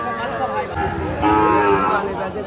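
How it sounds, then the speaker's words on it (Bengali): A cow moos loudly and close by at a busy cattle market, one long drawn-out low call with faint crowd noise around it. "সুন্দর একটা গরু"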